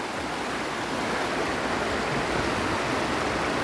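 The Omanod River, a small river, flows steadily in a continuous broadband rush of water with no pauses or talk, sounding close and even throughout.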